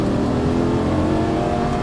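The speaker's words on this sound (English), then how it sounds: "Go ahead and squeeze that throttle." Lamborghini Gallardo LP550-2 engine accelerating under throttle on a track, a loud, close, steady droning roar with a rising tone and no pauses.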